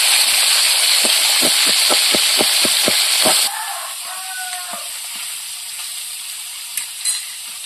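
Fish frying in hot oil, used afterwards for frying elephant-foot yam fritters: a loud, dense sizzle with crackling pops for several seconds, then a much quieter, settled hiss with occasional faint clinks.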